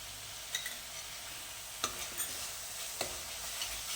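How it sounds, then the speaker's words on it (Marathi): Vegetables roast with masala in a pan, giving a soft continuous sizzle with a few clear scraping strokes of stirring spaced through it and no voices. "ते मसाल्याबरोबर एकत्र व्यवस्थित भाजून घ्यायचे आहेत"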